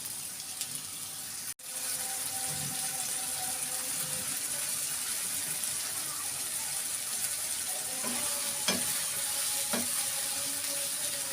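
Onion and tomato masala sizzles in oil in a pan while being stirred for a Pakistani chicken stew, giving a steady, close hiss with occasional soft scrapes and clinks from the stirring.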